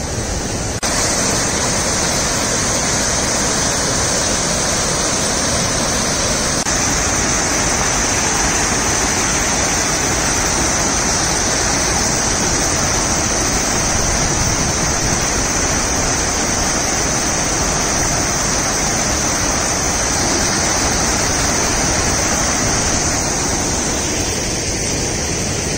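Steady, loud rush of water pouring over the spillway of the Pedro Leopoldo reservoir dam, a 1924 railway-built weir, roaring continuously and close by with no talk.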